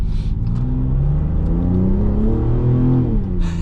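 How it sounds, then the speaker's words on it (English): A 2026 Dodge Charger Sixpack accelerates with a steady, loud engine drone and rising rumble, with the turbocharged engine's whooshes mixed into the sustained roar. "you hear those turbo whooshes"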